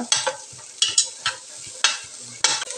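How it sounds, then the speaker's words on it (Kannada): Onion is fried and stirred in a kadai for an oil-free paneer masala, with sharp scraping strokes at an irregular rhythm over a soft sizzle. "ಕಡಾಯಿಗೆ ಒಂಜಿ ನೀರುಳ್ಳಿ ಪಾಡ್ದು ಇತ್ತೆ ಮತ್ತು ನೀರುಳ್ಳಿ ಪಾಡ್ದು ಸರಿ ಫ್ರೈ ಮನ್ಪುಗ"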